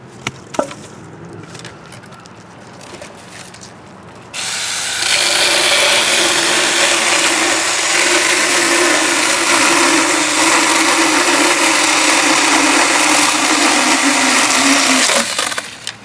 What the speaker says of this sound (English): I just want to show you things I'm cutting with my handheld chainsaw today